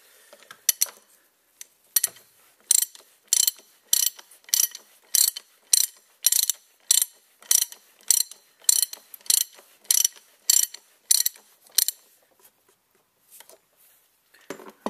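Ratchet wrench on a Mercedes E300 3-litre turbo diesel tightening the oil filter housing, giving a steady run of about fifteen crisp, close clicking bursts in an even rhythm, with no talk.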